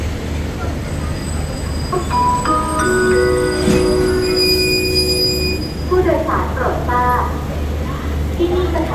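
Express train 83 rolls to a stop at Ban Pong station in Thailand, with a continuous low rumble, squealing brake tones and clanks of the cars, heard from on board while people talk nearby.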